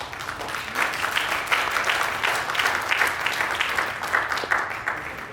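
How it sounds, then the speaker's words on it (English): A town hall audience at a panel discussion claps warmly to welcome a pastor, a dense, steady burst of applause from a full room lasting several seconds, loud and close with no speech over it. "please give him a big hand of applause"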